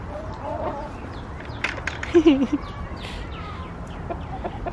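A backyard chicken flock on a small city farm clucks nearby, with a short burst of louder clucks standing out over soft ambient noise.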